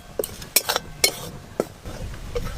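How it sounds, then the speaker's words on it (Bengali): Dry besan gram flour stirred in an empty kadai for paneer tikka: a handful of sharp scraping clinks of a spoon against the pan, spaced irregularly, close and moderately loud with no talk. "শুকনো কড়াতে বেসন একটু ভালো করে নেড়ে নেব।"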